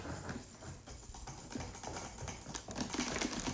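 Rapid keyboard and mouse clicking from a player in a sumo match, a dense, fast stream of small close clicks and taps at low level with no speech.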